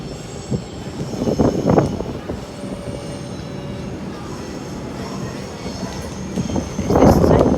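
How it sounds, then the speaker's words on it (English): A Sandringham line train in Melbourne rumbles steadily close by, wheels squealing and clattering on the rails as it pulls along the platform. "Is that the Sandringham train coming over that way now?"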